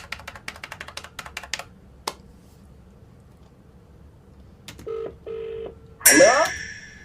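A rapid run of keypad beeps, then a few longer tones, ending in a short burst of higher ringing tones, all close and clear against a quiet background.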